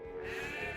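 A single sustained sheep bleat from Age of Empires II sounds close and clear, lasting under a second with no speech over it.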